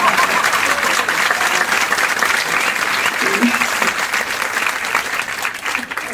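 Loud, continuous audience applause, a thick crackle of many hands clapping together that holds steady for around six seconds without letting up.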